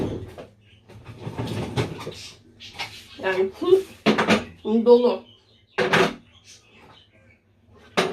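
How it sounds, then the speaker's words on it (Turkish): Dishes clink and a rack slides as a dishwasher is unloaded, with scattered clatters and knocks while a person talks quietly. "Bulaşık makinem boşaltılacak."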